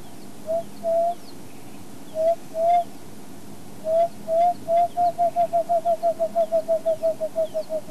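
An emerald spotted dove calls alone with soft, clear hoots: a few spaced coos, then a longer run that speeds into a rapid, evenly spaced series of short notes, moderately close against quiet background.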